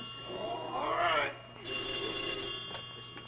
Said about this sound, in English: Aren't you going to answer the phone, Jack?